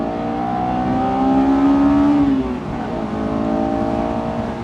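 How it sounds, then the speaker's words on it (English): A Honda S2000 engine in Gran Turismo 7 holds a high steady rev, then the pitch shifts as VTEC changes cam profile and settles into a lower, even drone; loud and close. "It's really interesting when VTEC kicks in, you can almost hear the cams lift."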